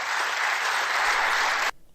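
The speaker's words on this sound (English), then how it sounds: "Can't believe they're applauding the biggest load of garbage." Televised leaders' debate audience applauding between Sunak and Starmer, a dense, steady wash of clapping that holds loud for nearly two seconds and then cuts off abruptly into near silence.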